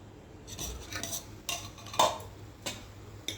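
A spoon stirs hibiscus flowers boiling in water for dye in a covered pot, giving a few scattered metallic clinks and scrapes over a quiet background.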